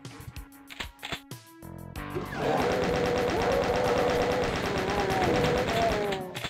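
A chaingun fires in the game Voxel Doom 2: after about two seconds of scattered quieter sounds, a loud, dense, continuous rapid-fire burst runs steadily to the end.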